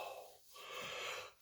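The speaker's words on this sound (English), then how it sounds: "I've been yawning like crazy today." One person yawns with a long drawn-out breath that swells and then fades, soft and close, with no words spoken.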